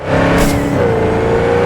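A car engine in Cyberpunk 2077 drones loudly and steadily while driving, its pitch holding and then shifting slightly as it shifts, close and alone without talk.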